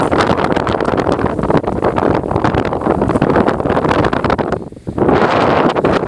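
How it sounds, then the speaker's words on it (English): Strong wind on the Pacific Crest Trail between Agua Dulce and Mojave roars and buffets the microphone in loud, continuous gusts, briefly dipping before surging back. "Super windy."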